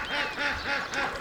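A duck in a pond quacks repeatedly in a steady run of nasal calls, loud and close, with no talking.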